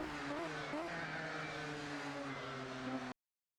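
Race car engine in a GT racing sim held at full throttle, its pitch climbing and then dropping through quick downshifts, loud and continuous before cutting off abruptly at the end.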